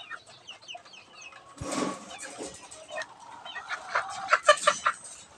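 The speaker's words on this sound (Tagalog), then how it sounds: "Meron na pong umiiyak dito na sisiw." Busy sounds of newly hatched chicks in a coop: high thin peeps and chirps scattered throughout, with clucking and a brief rustling burst midway, growing louder toward the end.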